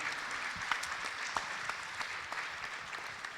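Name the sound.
audience applause for a panel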